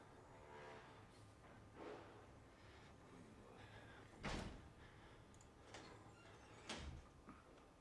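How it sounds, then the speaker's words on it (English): A door closes behind a character in a video game, heard as a soft thud among several faint clunks and ticks over a quiet game ambience, with no talking. "I'm waiting for him to close the door behind him"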